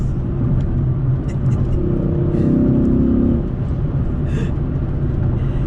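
Dodge Charger SRT8 with a 6.1 V8 revving hard in a deep, loud rumble that climbs in pitch toward the middle, then drops back as the gear changes and the engine settles into a steady roar.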